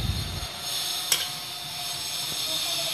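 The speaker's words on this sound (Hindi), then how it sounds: "तेल हमारा गर्म हो चुका है और देखिए चीनी में कैसे बबल आ गया है" Sugar melting in hot oil in a pan while cooking a jeera rohu fish curry, giving a steady close hiss and sizzle with a faint bubbling texture throughout.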